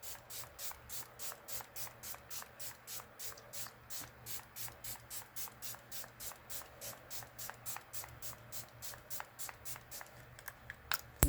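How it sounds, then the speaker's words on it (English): Setting spray is misted onto a face in a steady series of soft, quick spray bursts, evenly spaced, repeating many times in a quiet room. "I'm going to spray my face with my setting sprays"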